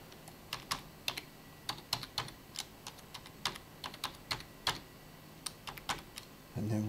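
Someone types a new password on a computer keyboard: quiet, irregular clicks in quick clusters with short pauses, ending in a soft thump.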